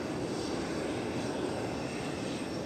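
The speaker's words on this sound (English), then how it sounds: "Jingle Singer's a little disappointed because this is a 20th century aircraft." Fixed-wing airplane at DFW Airport, a steady, continuous engine roar heard from a moderate distance with no talking.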